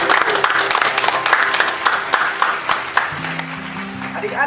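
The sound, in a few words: children's applause in church service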